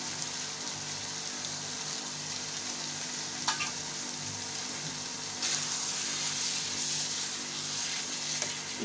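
Keema cooks in a pan with added capsicum and cabbage, hissing as a steady, even sizzle for a jalfrezi. One or two faint knocks of stirring break the frying, which is close and continuous with no talk.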